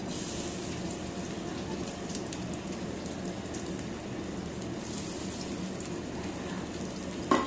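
Onions sizzling in hot mustard oil in a pan while cooking chepa shutki, a steady dense crackle and hiss that holds evenly throughout.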